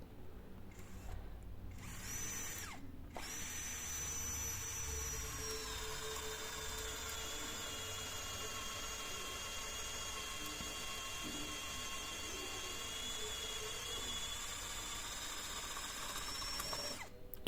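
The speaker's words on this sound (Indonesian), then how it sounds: "Saya akan bor lagi di sampingnya." A Hasston cordless drill at speed 1 with a 16 mm bit whines steadily while boring through material, a sustained high-pitched motor drone after a couple of brief starts, close and loud.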